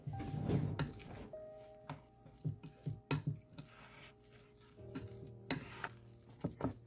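Spoon stirring melted butter and oil into cornbread batter in a bowl, soft wet sloshing with intermittent clinks and knocks against the side, close and quiet, with no talking.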